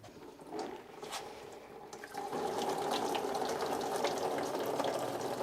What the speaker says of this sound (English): I hate draining coolant because it always gets all over the floor